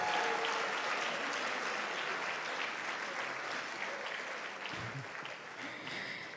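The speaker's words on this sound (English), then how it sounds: "Please, another round of applause for our 𝐏𝐶𝐬𝐬𝐿." Sustained applause from an audience at a Nigerian Independence Day event, a dense, steady wash of clapping that stays loud throughout and tapers only slightly toward the end.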